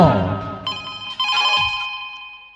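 A telephone rings with a bright, sustained electronic tone in a staged drama scene, following a burst of other noise and standing out clearly.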